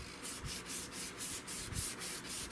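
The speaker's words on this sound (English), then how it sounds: "So you got to stay away from that and still sand in here." Wooden stock of a Cooper M38 rifle being hand sanded, quick rhythmic back-and-forth rasping strokes at about four per second, close but faint, with no talking.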